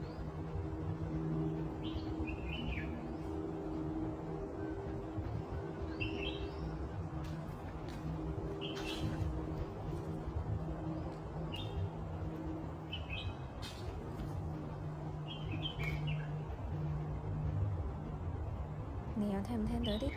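Small birds chirp and tweet in short scattered bursts among trees outdoors, moderately faint over a steady broadband hum and a low droning background.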